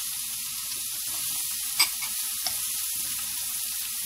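Red onion frying in a pan for prawn thermidor, an even hissing sizzle with a couple of sharp utensil taps against the pan, close and steady without speech.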